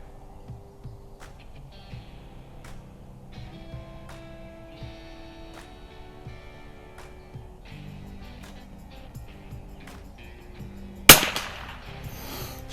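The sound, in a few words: gunshots from Weihrauch HW660m bolt action .22LR target rifle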